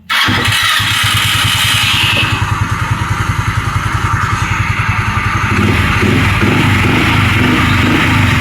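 A Rusi Quest 125 motorcycle with a newly replaced battery starts on a single click, then settles into a loud, close, rhythmic idle putter.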